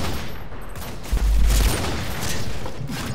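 Gunfire in Call of Duty: Modern Warfare 2, a dense burst of rapid shots with a heavier boom in the middle, heard through continuous game noise.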